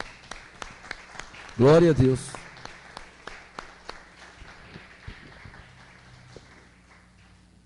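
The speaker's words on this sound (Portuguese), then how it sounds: "Mais palmas ao Senhor." A church congregation claps steadily in praise, with even, rhythmic hand claps continuing throughout while a voice briefly calls out over them near the start.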